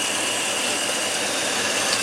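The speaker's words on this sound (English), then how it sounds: "the engine starts running real rough" A Mechman VBCM alternator-equipped car engine idles roughly and continuously at close range, a steady rumbling drone with a slight rattle and no voices.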